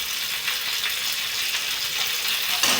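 Red chillies frying in a pan with onions for a dal vange dish, a continuous close crackling sizzle with small pops throughout and no talk.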